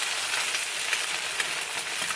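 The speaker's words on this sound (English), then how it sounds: "All right, we got some eggs and cheese frying." Eggs and cheese frying in a pan give off a steady, close sizzle and hiss with faint crackles, running without a break and with no voices.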